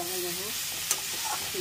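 Pumpkin and potato frying in a pan produce a constant soft sizzle, with a single sharp tick partway through and faint voices or tones drifting in the background.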